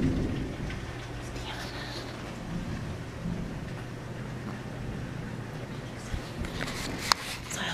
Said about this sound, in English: The thunder doesn't wake him up because he hates storms.